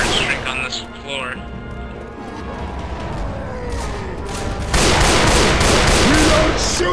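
Rapid gunfire from Left 4 Dead 2, a loud dense burst that swells over the second half, backed by game noise and shouting players.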